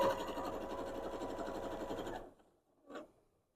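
A sewing machine stitches straight quilting lines in a steady, fairly quiet run for about two seconds, then stops, followed by a brief soft mechanical sound.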